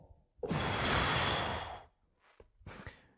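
One long deep breath is drawn in and slowly let out during a breathing exercise, close and breathy, followed by a couple of shorter breaths.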